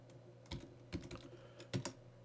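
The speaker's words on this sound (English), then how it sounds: "So I would hit tab and then I could type my last name." A few sparse keystrokes on a computer keyboard, soft taps in small clusters with gaps between, quiet and close over a low steady hum.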